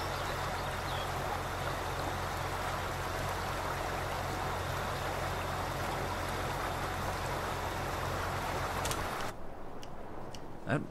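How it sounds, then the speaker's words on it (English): Flowing water in the video game Farming Simulator 19, a loud, constant rushing stream that fills most of the clip before cutting out abruptly near the end, leaving a quieter background. "That water's loud."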